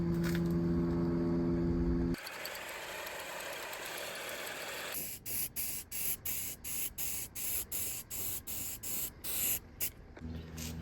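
A spray can coats an anvil base in implement green: a long continuous hiss, then a run of short regular bursts, with an engine-like hum at the start and end.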